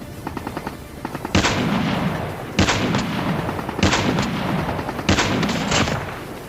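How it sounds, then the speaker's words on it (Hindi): Gunfire in Call of Duty Mobile in a solo vs duo match: four loud bursts of rapid shots at roughly even intervals, each with a sharp crack and a rumbling tail, over a low game hum and no voices. "अब मुझे सामने की साइड से फायरिंग के साउंड भी सुनाई दे रहे थे"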